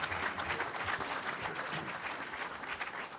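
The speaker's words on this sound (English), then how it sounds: "How about a round of applause for the first round?" Steady, dense applause fills a hall during a Republican gubernatorial primary debate, a continuous crowd clapping at moderate loudness without pause.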